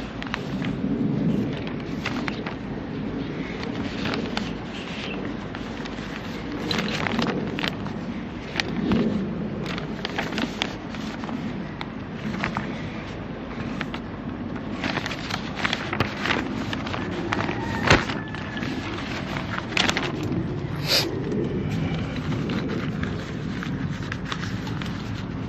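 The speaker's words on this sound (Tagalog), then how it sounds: "dahil malakas ang ulan" Heavy rain pours down steadily with thunder rumbling and cracking through it, a dense, continuous roar of rainfall and wind that stays loud for the whole stretch.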